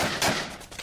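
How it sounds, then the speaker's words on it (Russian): A short burst of shotgun fire in a video game, a loud blast with a quick crackling tail, close and sharp. "Дробовика в упор шмаляет."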